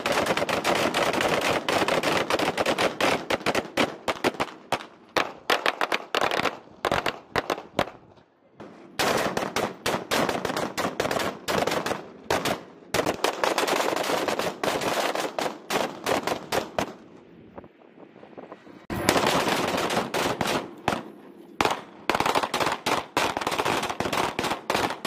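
Rifle fire on a live fire range aboard the amphibious assault ship USS Bataan (LHD 5), with rapid bursts of sharp, loud shots cracking in dense volleys, broken by a few brief pauses and quieter gaps.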